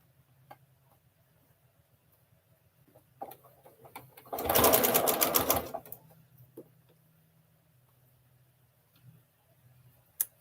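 A sewing machine stitches miniature quilt blocks of 1.5 inch squares for a Trip Around the World quilt, running in one loud burst of about a second and a half amid quiet ticking and small handling clicks.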